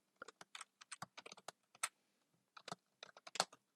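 Keys tapped on a computer keyboard, a close, quiet run of distinct clicks in uneven bursts with a brief pause partway through.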